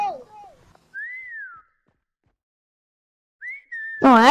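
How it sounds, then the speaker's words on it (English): Whistle taunt in the video game Prop Hunt, two short rising-and-falling whistled notes heard clearly a few seconds apart, with a voice talking over the start and end. "Whistle!"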